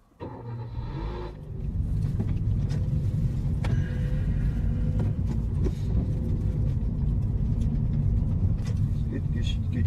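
A car starts and pulls away during a driving lesson: a brief starter whir, then a steady engine hum that holds and builds slightly as it moves off, with occasional knocks and voices inside the cabin.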